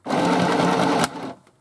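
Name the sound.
sewing machine sewing a mini sewing machine bag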